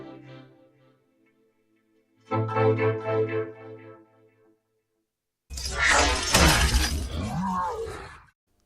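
Roland MV-8000 vocoder with its delay effect always on: a faint tonal passage, then a denser chordal burst, then a loud, noisy, voice-like vocoded phrase with sweeping pitch, each separated by silence; no plain talk.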